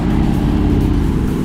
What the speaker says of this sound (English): Oh yeah, listen to that exhaust.